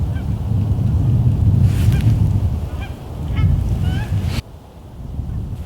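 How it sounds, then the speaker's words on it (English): Geese honk while flying at a waterfowl hunt, scattered calls in the distance over steady wind and outdoor rumble, with a sudden drop in background noise near the end. "We got geese flying all over this place."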